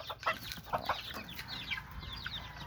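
Several chickens cluck and chatter in quick, overlapping bursts at a chicken farm in Bohol, fairly close, with a low background hum and no talking.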